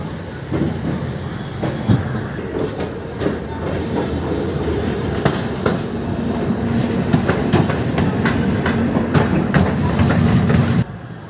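The Uttarbanga Express rolls slowly into the Sealdah car shed, giving a loud, steady rumble with rhythmic clickety-clack of wheels over rail joints and occasional sharper clanks, heard up close.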